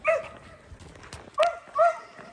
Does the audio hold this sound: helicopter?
no